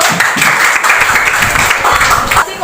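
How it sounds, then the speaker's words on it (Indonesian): A classroom audience claps for a group presentation at a teacher training session, loud and dense, with voices mixed in among the clapping throughout. "Berikan tepuk tangan dulu."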